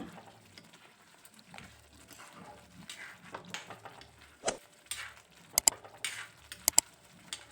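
Dry fish fries quietly in a pan with a faint sizzle, while a spoon stirs it, producing scattered scrapes and a few sharp metallic clinks against the pan.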